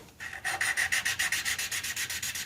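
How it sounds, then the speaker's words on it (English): An exhaust valve from a Simplicity 560 engine is lapped against its seat with lapping compound, giving a close, steady gritty rubbing that repeats in quick rhythmic back-and-forth strokes, about six per second, with no talk. "I'm going to just apply the tiniest amounts of lapping compound to the valve"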